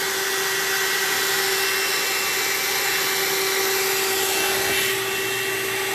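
A hair dryer blowing steadily during a volume blowout styling session, with a loud, continuous whooshing hum that holds its tone throughout and shifts slightly near the end.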